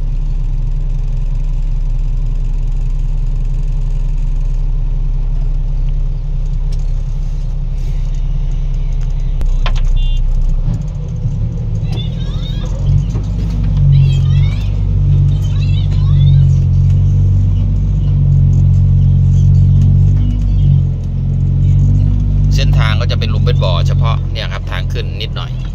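A six-wheel truck engine runs throughout, a loud, low, steady idle-like rumble that swells in the middle section, with occasional mechanical clanks and voices speaking over it toward the end.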